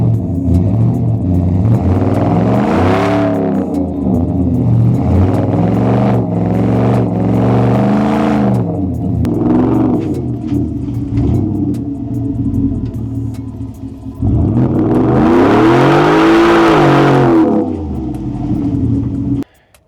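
A 2024 Ford F-150 Tremor with a 5.0L V8 and Flowmaster muffler revs repeatedly, with several short blips and a longer, louder rev near the end, all over a deep, throaty idle rumble, close and loud.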